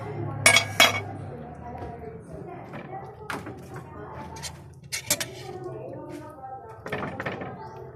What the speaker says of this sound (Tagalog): isalang na natin yung kawali